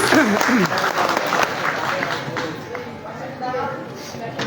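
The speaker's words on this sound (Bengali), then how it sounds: "মিথিলের জন্য একটা তালি হয়ে যাবে" An audience claps for Mithil at a live modelling show event, a burst of applause that fades gradually while a voice talks over it.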